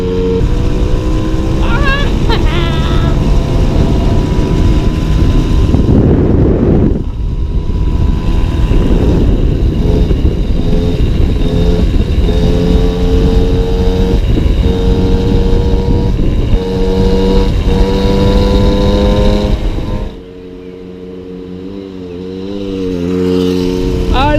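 A 1972 Motobécane N40 moped's small two-stroke engine screams at full throttle, pitch climbing, loud and close, then drops away to a lower idle near the end.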